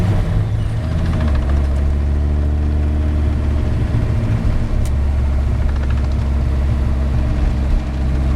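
A 2001 Dodge Viper RT/10 with a Belanger exhaust rumbles loud and close, a deep, throbbing engine note holding steady at idle with slight swells, and no voices over it.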